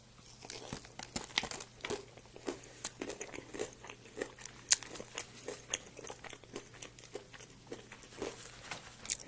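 Close, quiet chewing and crunching of food. Irregular crisp bites and crinkly mouth sounds repeat throughout with no talking.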